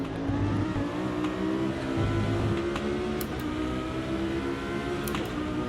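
A Lamborghini Huracan Super Trofeo Evo2 race car in a racing video game accelerates, its engine droning steadily near and loud with rising and falling revs throughout.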